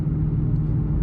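Mustang GT fitted with an X-pipe exhaust idling low as it pulls up to a gas station, a steady deep rumble, close and loud, with no speech.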